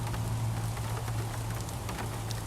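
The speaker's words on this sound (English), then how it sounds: "you can watch it rain here all day long if you want" Rain falling at Tiger Lake at Big Cat Rescue on a rainy morning, a soft, even patter with a low steady hum beneath it and no voices.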